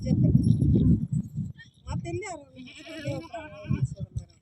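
Sheep bleat in a rural farm setting, a loud wavering call in the first second followed by talking voices with more faint bleats underneath.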